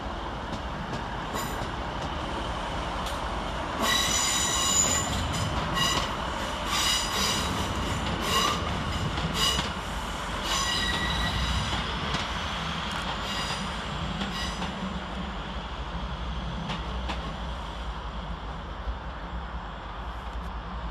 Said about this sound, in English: Departing over on the far side 7 minutes late is 156466 with the 1415 Northern service from Chester to Manchester Piccadilly.